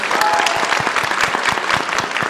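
A PAX East panel audience claps in a dense, steady round of applause, loud and close, with crowd noise blended in.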